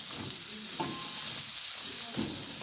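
Food sizzles steadily in hot oil with occasional stirring scrapes, a close, continuous crackle with no talk.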